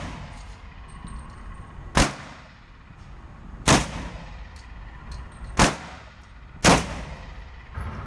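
A Glock G31 pistol fitted with a Micro Conversion Kit fires four separate shots at an outdoor range, each a sharp, ringing crack at irregular intervals of about two seconds.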